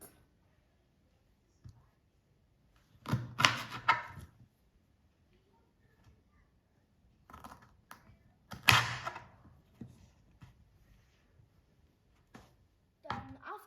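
A knife chops broccoli on a cutting board for Italian pasta with broccoli and sausage, in a few separate bursts of close, crisp cutting strokes with quiet gaps between them.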